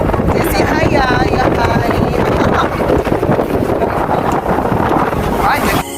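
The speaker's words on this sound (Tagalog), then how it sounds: "Ang simoy ng hangin." Strong wind blows outdoors along a road past fields, a steady roaring buffet that rushes over the microphone, with a voice faintly audible beneath it.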